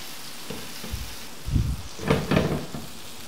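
Chicken reshmi kababs fry in their own rendered fat on a tawa, giving soft, intermittent sizzling and crackling at low volume, with a few louder spits and dull pan-contact knocks toward the end.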